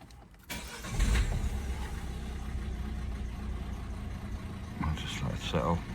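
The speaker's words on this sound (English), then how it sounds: "when we start the vehicle up, before it was running very rough, we'll start it up now" A car engine that had been running very rough is started after its fault codes are cleared. It cranks, catches with a loud burst and settles into a steady, close idle, with a brief revving swell near the end.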